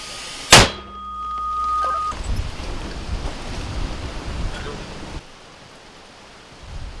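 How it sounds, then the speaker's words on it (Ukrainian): A single sharp, heavy mortar blast cracks out early from a Ukrainian army mortar, followed by a long rumbling echo and open-air noise with faint background hum. "Постріл! Буха!"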